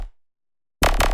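After a brief fade and near silence, a loud, heavily distorted jump up bass synth built in Xfer Serum bursts in for under half a second with a wobbling, gritty growl.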